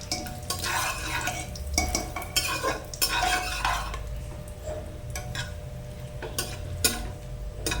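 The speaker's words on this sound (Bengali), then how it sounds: "এবার এটা হালকা করে নেড়ে নিয়ে" A spoon stirs whole spices, dried chillies, bay leaves, whole garam masala and cumin, in a pan for chicken curry, giving close repeated scrapes and clinks over a light sizzle with no voices.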